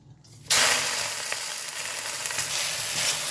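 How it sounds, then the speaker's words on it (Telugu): Gongura sorrel leaves drop into a little hot oil in a kadai, raising a sudden loud sizzle that then holds as a steady close crackle with light stirring. "ఇప్పుడు ఈ గోంగూర ఫ్రై చేసుకుందాం."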